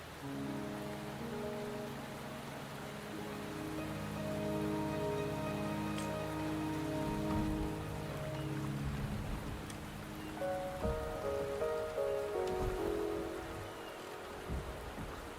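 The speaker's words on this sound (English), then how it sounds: "The rain is subsiding," Rain falling in the video game Wuthering Waves, a steady wash of drops heard alone beneath sustained musical tones, with a brief louder patch partway through and no talk.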